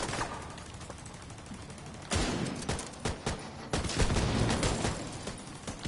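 Gunfire in The Division 2 as a player shoots at an enemy, with dense bursts of shots that swell louder halfway through over a steady background din.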